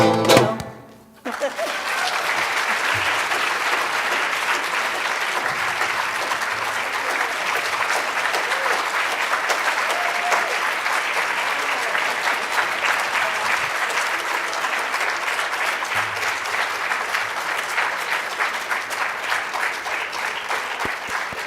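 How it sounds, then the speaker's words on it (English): Sustained applause from an audience at a museum closing program after a song, a dense steady clatter of many hands clapping that continues without a break for about twenty seconds. "Please give a round of applause"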